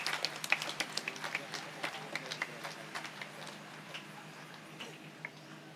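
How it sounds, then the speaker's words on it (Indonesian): A congregation at a large Catholic Mass applauds faintly, with scattered, distant claps ticking irregularly and thinning out toward the end. "mari kita beri tepuk tangan yang meriah untuk mereka"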